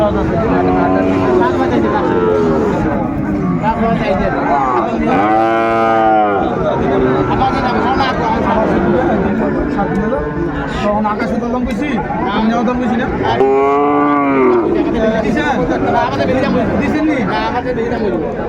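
Two long, deep moos from a Sahiwal bull calf ring out close by, one early and one later, over a busy crowd of people chattering at a cattle market.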